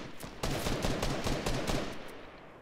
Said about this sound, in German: Pass auf, die schießen.